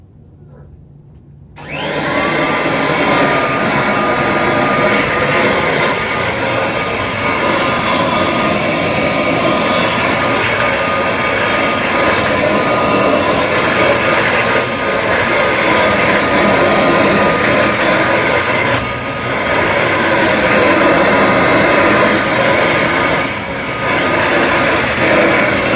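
An 8850 vacuum cleaner runs on a floor with a loud, steady motor whine and airy roar that starts abruptly and holds throughout, with slight dips as it moves, close by and without speech.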